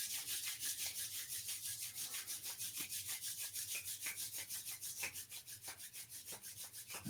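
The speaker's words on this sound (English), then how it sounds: "Rubbing our hands together." Hands rub briskly together at close range in a steady, rapid back-and-forth rhythm of dry, swishing strokes, with no talking, during a shiatsu session.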